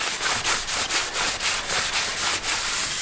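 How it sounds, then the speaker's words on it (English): A rag wipes brake cleaner off a chipped brake rotor on a 2016 Jeep JK, a close, rhythmic scrubbing of about a dozen quick back-and-forth strokes. "I'm just using some brake cleaner on the rotor just to clean the grease off"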